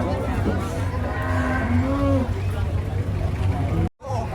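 Skinny cattle at a livestock market, a cow lowing loudly in a long rising and falling moo over a steady engine rumble and crowd noise, with people talking nearby.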